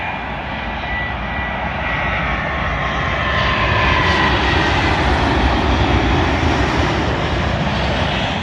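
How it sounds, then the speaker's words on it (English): A Virgin Atlantic Boeing 787 arriving from Las Vegas lands at London Heathrow runway 27L, its engines a loud, steady broadband roar that swells slightly as it passes close by. "Arriving in now is a Virgin Atlantic Boeing 787 working a service from Las Vegas"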